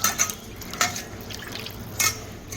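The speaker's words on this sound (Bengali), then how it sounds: "আমি জল দিয়ে ধুয়ে নিচ্ছি।" A rohu fish is rinsed with water in a home kitchen, with soft splashes and drips plus a few sharp clinks from a dish or pan, close and fairly quiet.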